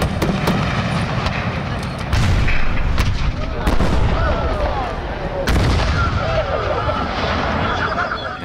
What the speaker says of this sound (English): The mortars, a lot of the artillery, even the muskets, their original source came from the real stuff on the Gettysburg field.